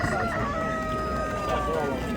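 A rooster crows amid the busy clamour of a bird market in Ganja, its drawn-out call rising over a constant background of other fowl and people's voices.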